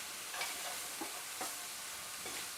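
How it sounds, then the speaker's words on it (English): Veggie mince gently stirred in a pan, giving a soft, quiet sizzle with light scraping strokes spaced a moment apart. "Gently stirring."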